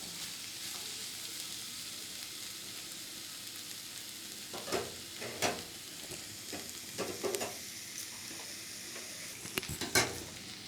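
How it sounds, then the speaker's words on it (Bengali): Sugar is stirred in a pan until it melts for chira pulao, a soft continuous sizzle broken by several sharp scrapes and clinks of a utensil against the pan, the loudest near the end. "একটু চিনিটা গলা অবধি একটু নাড়াবো।"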